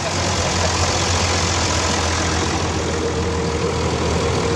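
A tractor engine idles close by in a noisy workshop, producing a loud, steady, unbroken low drone with a constant level throughout.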